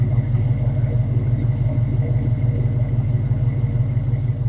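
A 1970 Plymouth Barracuda engine runs with a deep, steady low rumble and a faint mechanical whine, sounding smooth and even rather than rising into a rev, close and continuous for the whole stretch.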